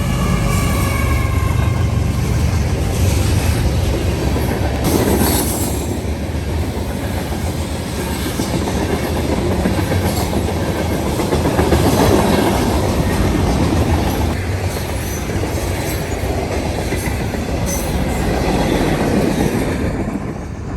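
A CSX freight train rolls steadily past with an ES44AH locomotive working mid-train as distributed power, a loud continuous rumble of rail cars with clickety-clack wheel beats and faint brief wheel squeals throughout.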